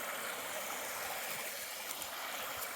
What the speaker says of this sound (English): I've got a waterfall.